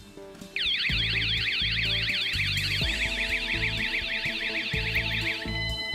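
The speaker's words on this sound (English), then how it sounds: "Because the alarm goes off if you touch it." A loud electronic alarm goes off after the vent is touched, a rapidly warbling siren-like wail that sounds continuously for about five seconds over a low rumbling background, then cuts off.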